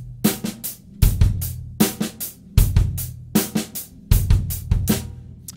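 A snare drum plays a funk figure built on two consecutive 16th notes, sharp crisp strokes in short pairs and clusters repeating steadily over about five seconds, close and loud with no voices.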